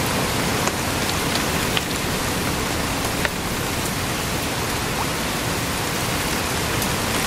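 Steady, dense rainfall pours continuously, a loud broadband hiss with occasional sharper drops standing out, no voices over it.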